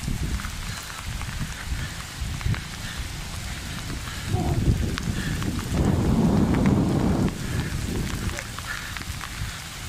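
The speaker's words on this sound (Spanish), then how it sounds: "Empezó a llover, señores, en Roboré" Rain falls steadily in Roboré in the Chiquitania, a dense close patter that swells louder midway, with a voice talking over it.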